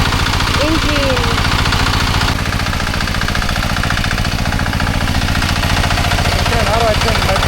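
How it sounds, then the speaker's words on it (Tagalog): A Kamasuki brand engine idles on a Philippine rice harvest, loud and close, with a fast steady knocking chug throughout while people talk over it. "That is Kamasuki brand"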